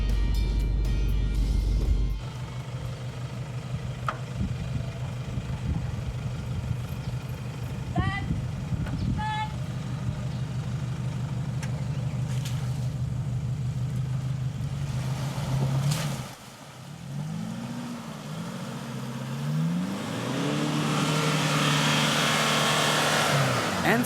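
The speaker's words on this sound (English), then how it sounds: "This is Johan Reichel in his Toyota Fortuner" A Toyota Fortuner 4x4 drives through a mud obstacle at an off-road club challenge, its engine droning steadily and revving in rising and falling surges, with a voice talking over it partway through.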